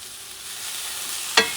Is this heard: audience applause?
no